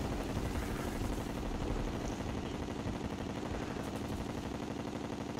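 Rapid, dense gunfire rattles without pause while battling the Moon Lord in Terraria, a loud continuous barrage of game shots with no talking.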